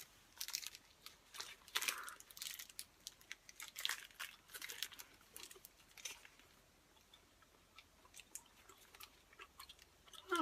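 Someone chews a raspberry-flavoured chew bar close to the mic, with steady wet chewing and some crinkling, crunchy bites and no talking.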